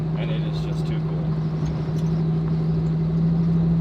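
LS V8 engine swapped into a Jeepster Commando truck, idling as a steady low rumble with a constant hum throughout, close by and fairly loud, with some faint talk in the background.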